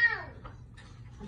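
A voice imitates a cat's meow, one short, bright, falling cry at the start. Faint low babble and background noise follow for about a second.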